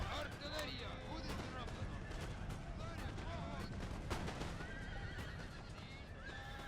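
Cavalry horses whinny and clop amid gunfire and cannon fire in a dense, continuous video game battle set in 1740, with horse calls rising over the steady roar of combat and a narrating voice running throughout.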